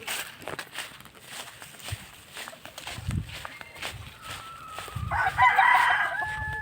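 Chickens cluck and scratch about nearby, then a rooster crows loudly near the end.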